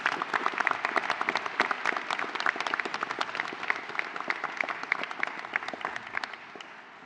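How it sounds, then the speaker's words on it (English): Audience applause at a university graduation ceremony, steady dense clapping from a large hall crowd that carries on for several seconds and then begins to fade. "Please join me in a round of applause for Miss Beverly O'Connor, our esteemed name"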